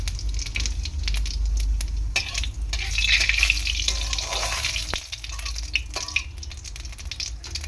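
Whole spices temper in hot oil in a karai, a wok-style pan, for a Bengali fish curry with pumpkin and potato, making a loud, steady frying sizzle with crackles and stirring, with no talking.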